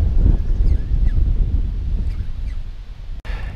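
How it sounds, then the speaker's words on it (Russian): Strong wind buffets the microphone on an open lake during pike spinning from a small boat, a loud steady low roar with gusts throughout, with a faint bird call or two in the background. "Ветер поднялся еще сильнее."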